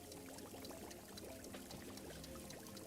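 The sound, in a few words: water pouring to wash coffee beans in video game Wanderstop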